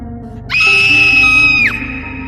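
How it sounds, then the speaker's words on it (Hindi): A terrible, high, sustained scream from a horror cartoon rises sharply, holds loud and steady for about a second, then drops off abruptly over a faint background. "तभी उन्हें एक बहुत ही भयानक सी चीख सुनाई देती है।"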